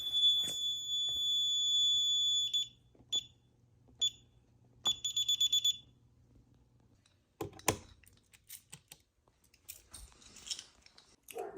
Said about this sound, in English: let's get started by setting off a heat detector and activating the fire alarm system.